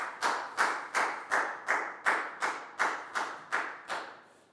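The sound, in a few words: classroom applause for a student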